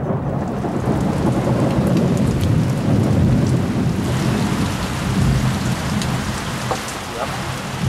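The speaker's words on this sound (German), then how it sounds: "Endlich der ersehnte Regen." A heavy thunderstorm in Paraguay: loud, dense rain pours steadily on surfaces while low thunder rumbles beneath it, continuous and close with no talk.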